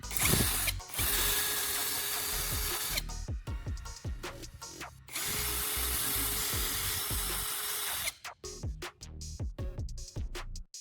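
Small hand drill boring a small hole into a long wooden knife sharpener jig, bursts of close whirring drilling alternating with pauses full of sharp clicks and knocks of handling.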